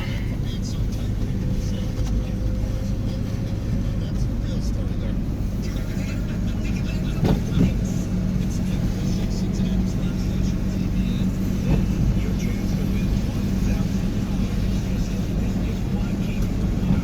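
A Toyota MR2 widebody replica fitted with a 3.5 liter 2GR FE engine pulls away as the clutch is let out, a steady low engine drone rolling on throughout, close and fairly loud, with a voice talking over it.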